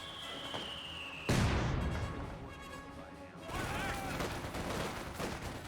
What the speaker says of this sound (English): Lucy managed to throw a satchel charge on top of the MG42